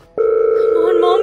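A telephone dial tone starts abruptly and holds steady and loud as a call is placed to a mother, continuing alone without talk for just over a second.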